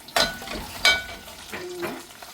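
Curry leaves and dried chillies hit hot oil with browned onions for beef roast, giving two sharp sizzling bursts, then a quieter frying hiss with stirring scrapes, close and fairly soft.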